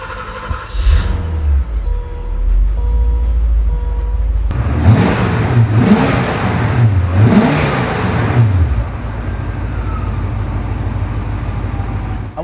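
A 1985 Porsche 928S V8 cranks and fires around the four-second mark, then revs loudly several times in sharp rising and falling bursts before settling into a steady, close idle.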